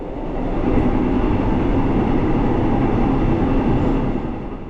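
A Korean Mugunghwa passenger train rolls along steadily, a continuous loud rumble of wheels and carriage noise with no voices.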